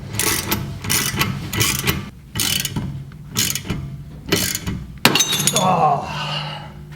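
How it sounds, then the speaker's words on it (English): A spanner works a ball joint separator on a 22mm bolt of a BMW E30, giving repeated rhythmic ratcheting clicks with mechanical creaks and a sharp crack near the end. A voice talks over it. "What you essentially do is just keep twisting it with the spanner until she is loose."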